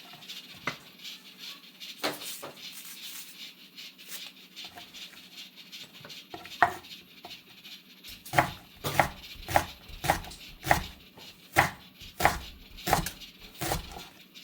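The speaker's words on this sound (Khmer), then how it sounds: "យើងចាប់តាមហាន់ស្លឹកខ្ទឹមធំរបស់យើង" A knife chops leeks on a board: light scattered cuts at first, then a steady run of firm, evenly spaced chops close by.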